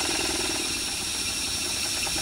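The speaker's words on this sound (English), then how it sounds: "Quite a nice engine, runs well, quite pleased with it really." A 1-inch scale model traction engine runs steadily in a small shed, giving a continuous, loud mechanical clatter and hum with no break and no talking.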